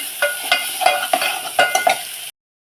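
Masala and red chili chutney roasting in a pan, a continuous sizzle broken by several sharp scrapes and clinks of a spoon against the pan, close and fairly loud, cutting off abruptly.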